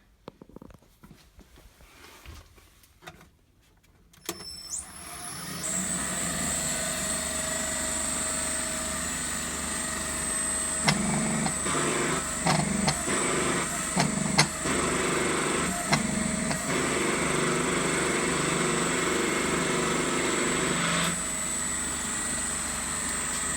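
A homemade hydraulic forging press working at up to 700 bar, a steady loud mechanical drone with a high whine, broken by several short surges and knocks as it moves, then stopping near the end.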